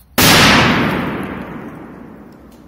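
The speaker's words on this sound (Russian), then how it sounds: "Просто бомбезные взрывы." A single Feeria P-2000 firecracker goes off with one sharp, loud bang, followed by a long, slowly fading rumble and echo, with no voices.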